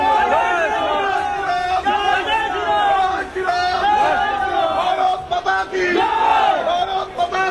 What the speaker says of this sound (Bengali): উদয়ন গুহকে লক্ষ্য করে চোট চোট স্লোগান, জয় শ্রীরাম স্লোগান এলাকার মানুষের